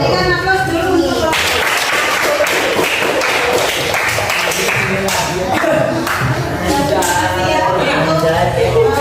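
Classroom audience applauding after a group presentation, steady dense clapping filling the room and sustained for several seconds with scattered voices mixed in.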